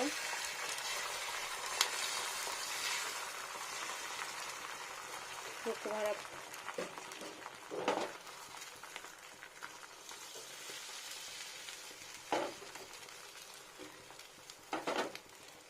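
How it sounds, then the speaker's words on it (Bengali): Egg omelette sizzling steadily in a frying pan for a Bengali home-cooked dish, a continuous broadband hiss with a few clinks and scrapes of a utensil stirring, close and fairly loud with no talk. "এবার ডিমটা ফ্রাই করব"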